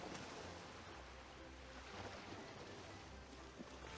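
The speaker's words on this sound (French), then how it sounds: "Petit ASMR bruit de vague." Ocean waves in Pokémon Brilliant Diamond, a very quiet continuous wash of surf with gentle swells and a soft low rumble, heard alone.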